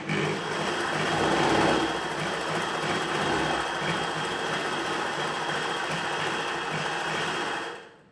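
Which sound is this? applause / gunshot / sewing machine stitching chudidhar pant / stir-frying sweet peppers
sewing machine stitching chudidhar pant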